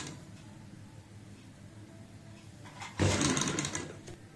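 A sewing machine stitches a light frill on a designer frock for a five-year-old: a short, busy burst of rapid needle clatter starts up near the end after quiet room noise, close and fairly loud.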